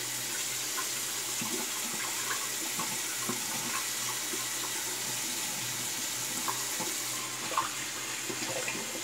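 Tap water runs steadily into a sink to warm a razor blade for a wet shave, a constant close splashing flow with no voices.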